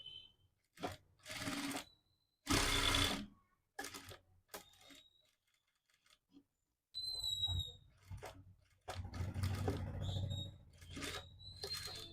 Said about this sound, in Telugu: ఈ విధంగా నెక్ డిజైన్ ఎలా ఉందో అదే షేప్లో ఒక స్టిచ్ అనేది వేసుకోండి ఈ విధంగా కుట్టుకోవాలి